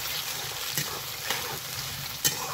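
Scrambled egg seasoned with turmeric and salt sizzles steadily in a pan, a dense close frying hiss punctuated by a few soft scrapes of the spatula stirring it.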